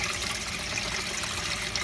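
Water draining from the plug of a fishing kayak's live well, a steady hissing, splashy trickle, continuous and close with no voices.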